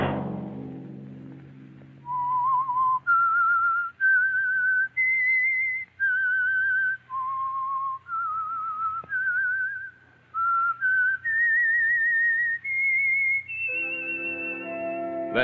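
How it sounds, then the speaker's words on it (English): A lone whistled melody from The Whistler, the Signal Oil radio drama, rises and falls in clear sustained notes with short breaths between them, then closes with a long held tone over soft orchestral backing. "Let that whistle be your signal for the Signal Oil program, The Whistler"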